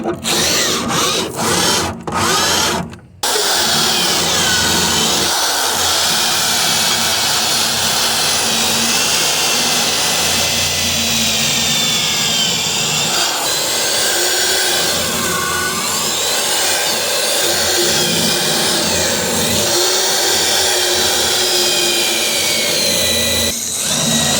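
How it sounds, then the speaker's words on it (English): A power drill drills out a pickup truck's blown-out leaf spring bracket, whirring steadily and loudly for most of the stretch, after a few sharp knocks and clatters at the start. "I'm just going to drill it all out, and then it'll eventually come out"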